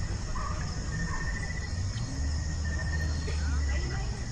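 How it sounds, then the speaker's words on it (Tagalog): Crickets chirp in a steady, thin high trill at a campsite in Magallanes, Cavite, at night, sitting above a low rumble of background noise with a voice briefly present. "Yung kuliglig"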